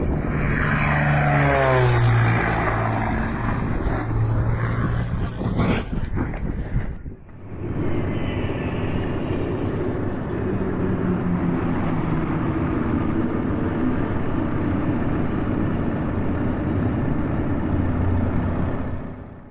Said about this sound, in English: Terrifying moment as a plane suddenly lost control on the runway and veered off into the dirt